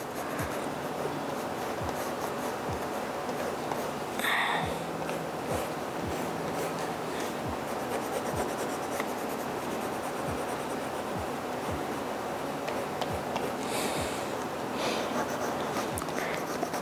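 Pen sketching small squiggles on paper, a soft scratchy rhythm of quick short strokes repeating steadily and close up, with no talking.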